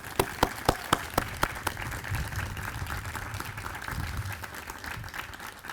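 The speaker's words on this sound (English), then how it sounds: "Let's give her a round of applause." Audience applause at a hall dedication ceremony: a few sharp, separate claps open it, then a steady round of clapping follows at moderate distance and continues to the end.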